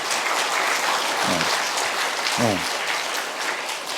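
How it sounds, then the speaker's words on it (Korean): Church congregation clapping for the choir conductor during a morning worship service, a sustained round of applause with a voice briefly speaking over it twice. "지휘자님한테 여러분 박수 한번 쳐줘."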